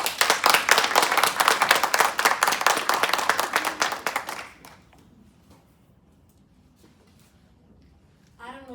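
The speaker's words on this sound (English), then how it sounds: "Let's give another round of applause to our panelists here." Loud, dense audience applause for a sports chaplaincy panel fills the first four seconds, then drops to quiet room tone, with a brief voice entering near the end.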